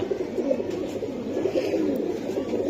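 Silver giribaz pigeons cooing steadily, a soft continuous murmur of low coos from several birds close by, with no talking.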